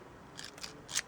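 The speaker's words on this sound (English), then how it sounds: "Those scrapbooking scissors that your wife isn't using, these are great for" Scrapbooking scissors make three quick snips during lure-painting prep for lake fishing, crisp and close, growing louder with the last cut.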